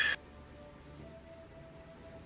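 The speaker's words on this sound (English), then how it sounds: "All I hear is the rain still." Soft, steady rain ambience plays as a background sound effect in a tabletop roleplaying session, a faint continuous patter after a brief louder burst at the start.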